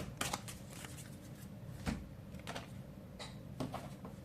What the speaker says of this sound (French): Est-ce que je fais tomber une carte ici?